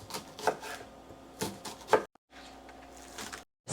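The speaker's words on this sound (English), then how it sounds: "Also going to cut up some green onions to go on it and serve it with some hard-boiled eggs." A knife chops green onions on a cutting board with a few distinct, fairly soft cuts spaced irregularly, over faint kitchen background noise.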